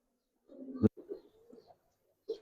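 Giribaz pigeons of the Palla line, silver Pankhi birds, give a few soft low coos in short bursts, close by and moderately loud, with a brief sharp knock partway through.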